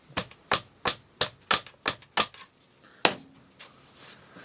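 A bat pounds a lacrosse faceoff head's pocket with about nine sharp, close knocks: seven in a steady quick rhythm, then a short pause and two more softer hits.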